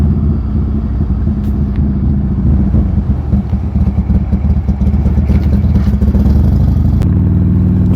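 A Buell Lightning XB12S motorcycle's engine runs loud and close with an uneven, offbeat V-twin firing. The rough, clattering rumble is steady throughout with no voices.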